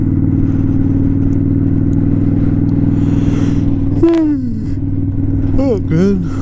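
A 2018 Kawasaki Vulcan 900 Custom motorcycle cruising with a steady low engine drone and rumble, heard up close from the rider's seat, while someone talks over it.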